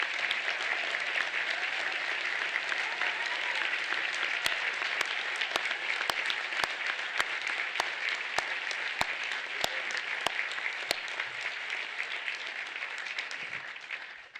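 Sustained audience applause fills a university graduation ceremony hall, a dense steady wash of clapping from a large crowd with a few sharp individual claps standing out, continuing for the whole stretch before tapering at the end.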